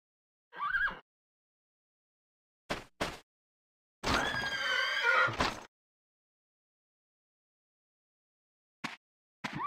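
Horse neighing in the Dragon Quest VIII video game, a single loud whinny lasting about a second and a half, surrounded by a few brief separate sound effects and stretches of silence.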